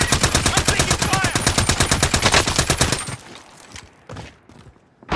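Call of Duty Warzone gunfire: loud, rapid automatic shots in a steady rhythm for about three seconds, then fading to scattered quieter sounds and a final burst.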